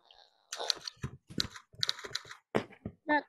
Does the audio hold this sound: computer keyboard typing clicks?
yes